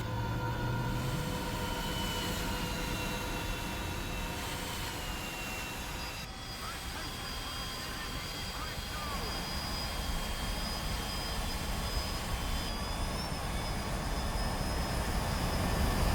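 A military aircraft engine in War Thunder drones steadily with a sustained jet whine and broadband rumble, moderately distant and constant, with faint talking over it.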